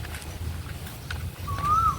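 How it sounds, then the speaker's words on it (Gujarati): An Asian koel calls once from a banyan tree at a village farm, giving a clear rising-then-falling whistled note near the end over faint outdoor background noise. "સરસ કોયલ મીઠી મીઠી બોલે છે"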